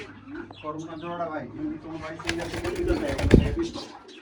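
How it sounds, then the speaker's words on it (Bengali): A pair of pigeons, a yellow hen and a black cock, coo softly close by, mixed with a voice and some handling noise. "দর্শক এখানে দেখতেছেন একজোড়া কর্মনা কবুতর"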